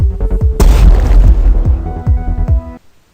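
A deep booming explosion of a player's spaceship in a Unity 3D game bursts out, followed by a rumbling decay with repeated thumping pulses and a ringing tone before it cuts off.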